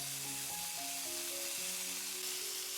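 Chicken pieces fry steadily in hot oil for chicken rice, giving a continuous close sizzle with no talking.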